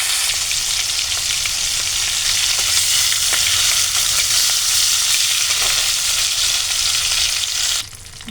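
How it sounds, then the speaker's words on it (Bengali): Hilsa fish head frying in hot oil, a dense continuous sizzle and crackle that stays loud and even throughout, with a brief drop just before the end. "মাছের মাথা দিয়ে দিয়েছি ভাজার জন্য।"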